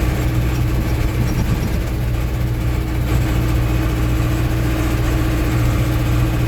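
A GAZ 3307 truck fitted with an OM364 diesel engine cruises in fifth gear, giving a steady, even low engine hum and drone from inside the cab, loud and unbroken throughout with no talking.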